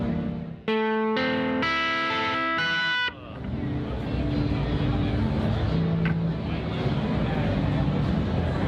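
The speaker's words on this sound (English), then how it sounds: "Transparent distortion. How does it clean up?" A few electric guitar chords through a transparent distortion pedal ring out and sustain, then give way to a rumbling, noisy wash with a voice faintly underneath.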